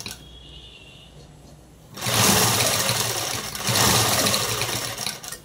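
A sewing machine stitching a dress top runs in two close, loud mechanical bursts after a quieter start, with a brief pause between them.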